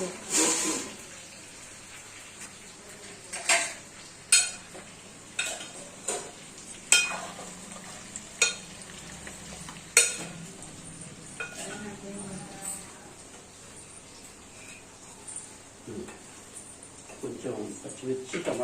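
Food fries in oil in a pan while a spoon stirs and scrapes, producing a low sizzle broken by repeated sharp metallic clinks and knocks; people talk over the cooking at close range.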